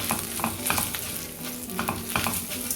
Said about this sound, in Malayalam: ഒരു 1/2 ടീസ്പൂൺ മഞ്ഞപ്പൊടി ചേർത്ത് നന്നായിട്ടൊന്ന് ഇളക്കാം